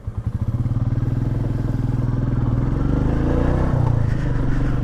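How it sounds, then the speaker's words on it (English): A Royal Enfield Meteor 350 engine cranks and fires up, its uneven starting chugs settling into a steady, deep thumping idle heard up close and loud, with no voices over it. "so let's crank the engine"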